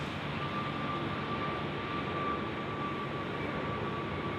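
A Jetstar jet airliner climbs away from Sydney Airport at night, heard as a steady, distant engine roar with a faint thin whine running through it.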